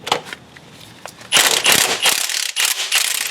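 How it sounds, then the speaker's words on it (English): An impact gun rattles in rapid bursts while tightening bolts during timing belt work on a Ford Focus, starting with a few short taps, then loud, near, sustained hammering with brief pauses. "I set my impact gun to 85 foot-pounds"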